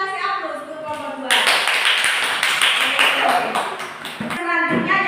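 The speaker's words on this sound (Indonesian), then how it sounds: "Kita kasih aplaus untuk kelompok 2" Classroom applause for a student group, a burst of many hands clapping that starts after a brief spoken moment and carries on steadily, with voices audible at the start and near the end.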